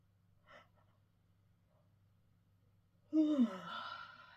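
A single person's yawn rises after near silence, a long breathy exhale that swells loudly then trails off, preceded by a faint soft breath.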